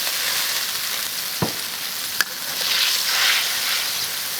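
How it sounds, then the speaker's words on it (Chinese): Loaches cooking in a pot of boiling water over a high flame give a steady, close bubbling hiss, broken by a couple of sharp clicks midway. "再把这个泥鳅下锅煮。"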